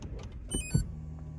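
A 2022 Lexus GX 460 shutting off: a soft mechanical clunk and whir rise over the low idle rumble, then a faint steady hum lingers as the engine dies away.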